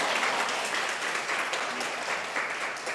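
A conference audience claps in dense, steady applause that stays even and fairly loud throughout, with no voices on top.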